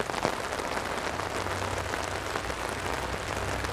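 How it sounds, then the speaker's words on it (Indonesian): Steady rain falls on an umbrella and the ground during an autumn walk through a Swiss village. It makes an even, dense patter that holds for several seconds, with no voices. "hari ini saya akan mengajak kalian sedikit berjalan-jalan di suasana hujan"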